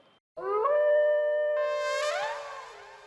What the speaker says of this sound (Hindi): लो फिर से कुत्ते को रुलाता हूँ